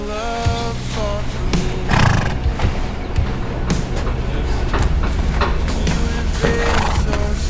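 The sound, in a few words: horses whinnying near hay bales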